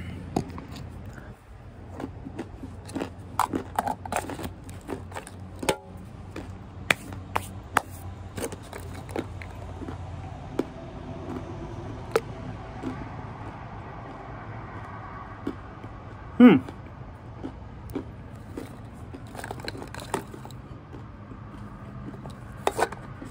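Crunchy chewing of a handful of Carolina Reaper flavored almonds, close and steady with irregular sharp crunches over a low background rumble, with no talk.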